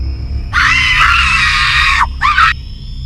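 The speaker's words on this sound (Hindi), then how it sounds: "दूसरी ओर से चीखने की आवाज आ रही थी।" A horror story's phone call carries a woman's loud screaming: one sustained shriek of about a second and a half, then a brief second scream after a short pause, with no talking over it.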